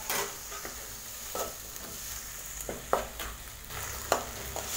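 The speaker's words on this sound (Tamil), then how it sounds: "தக்காளி நல்லா வதக்கிக்கலாம்." Chopped tomatoes sautéing in oil for pumpkin sambar, a soft continuous sizzle broken by a few sharp spatula scrapes and stirs, close and alone.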